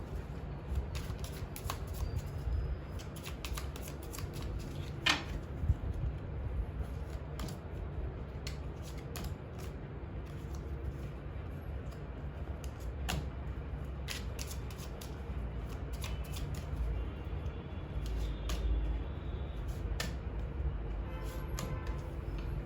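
Tarot cards being shuffled and drawn by hand, a steady riffling and sliding of cards with occasional sharp snaps, close and continuous with no talking.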